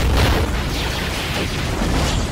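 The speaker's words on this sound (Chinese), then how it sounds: "爆炸成功为众人争取了宝贵的时间" Explosion in a zombie film as explosives go off at a dock, a sustained heavy rumbling blast with deep low-end roar and crackling debris continuing throughout.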